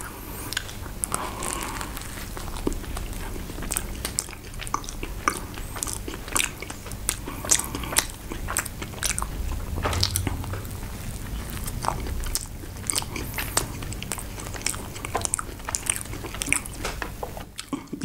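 Close, crunchy bites and wet chewing of a double patty burger, with repeated sharp crunch bursts and squishy mastication over a steady stretch and no talking.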